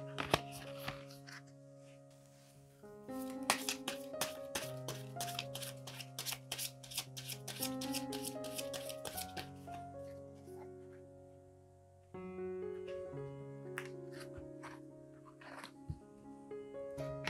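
Tarot cards are shuffled and drawn by hand in quick, crisp bursts of riffling and flicking, close and fairly quiet, over soft background music with a brief pause partway through.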